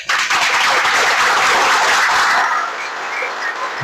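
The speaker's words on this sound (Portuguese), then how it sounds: "Palmas, por favor." Audience applause at a Brazilian ufology lecture, dense steady clapping from a crowd that carries on loudly through most of the stretch before easing slightly toward the end.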